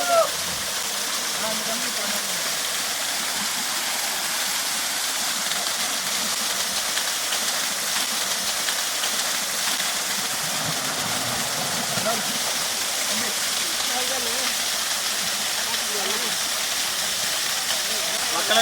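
Kumbakkarai waterfall in the deep forest near Theni, a steady roaring rush of falling water that fills the whole clip at constant loud level, with no pauses or distinct events.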